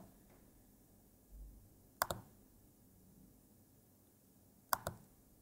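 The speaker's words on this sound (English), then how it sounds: "Now we click tracing on." Two sharp, close mouse clicks several seconds apart, each a quick double tick, over a quiet room while OmniGeometry tracing is switched on.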